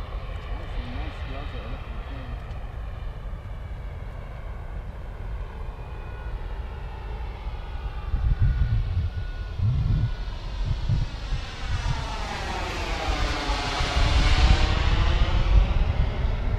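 A turbine-powered radio-controlled scale model of a Canberra jet aircraft (WH734) flies a circuit overhead, its steady jet whine rising and sweeping in pitch as it passes close by, with people talking underneath.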